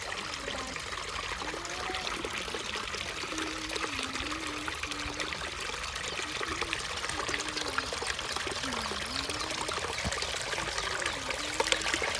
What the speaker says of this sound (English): I'll show the water fountain to them. Show the lake river.